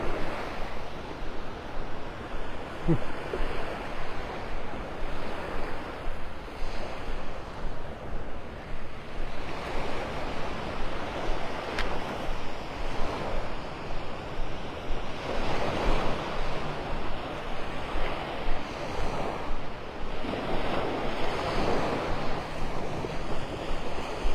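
Ocean waves breaking on the beach at Delnor-Wiggins in North Naples, Florida, a continuous rolling surf wash with repeated swells and some breeze buffeting the microphone.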